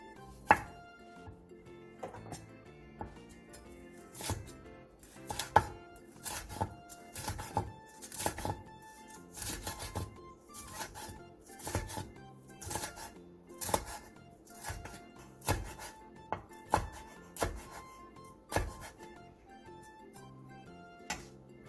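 Cheongyang green and red chili peppers are thinly sliced with a knife on a cutting board, crisp quick taps in irregular bursts with short pauses, close and fairly quiet, no voices.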